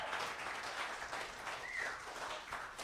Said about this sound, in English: that's cool when you got to wait for them to stop clapping to talk